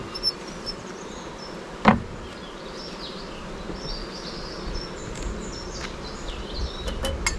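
Honeybees fly at a hive entrance outdoors, a steady low buzzing drone with occasional louder individual bees passing close and one sharp knock.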